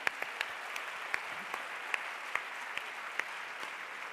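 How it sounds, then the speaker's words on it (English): Steady applause from a sizable conference audience at Stanford, moderately distant, with a few sharper individual claps standing out in the continuous patter. "So big round of applause for the Challenge Success team."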